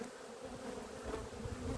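Honey bees buzz steadily over hive frames holding bits of honey, a close, dense drone with no voices.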